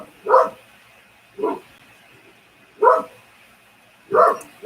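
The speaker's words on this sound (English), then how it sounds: "I hope you guys don't mind barking." A dog barks four times at irregular intervals, short sharp woofs close by with quiet pauses between.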